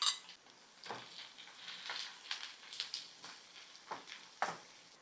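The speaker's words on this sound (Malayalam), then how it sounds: "നമുക്ക് പാൻ വെച്ച് ഇനി വെളിച്ചെണ്ണ ഒഴിക്കാം. അരിഞ്ഞു വെച്ച സബോള വഴറ്റാം." Chopped onions sautéing in coconut oil in a pan for a Kerala duck curry, with a soft steady sizzle broken by several stirring scrapes and light clinks of a utensil against the pan; no one talks.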